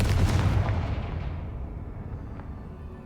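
A Confringo fire spell blasts in the video game Hogwarts Legacy, a single heavy booming burst with a deep rumble that slowly fades away.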